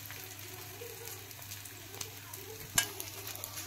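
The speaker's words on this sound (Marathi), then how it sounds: "आता राहिलेला मी सगळा डिंक तळून घेतला." Edible gum (dink) frying in a little ghee: a faint, steady crackling sizzle with soft stirring sounds and one sharp clink near the end.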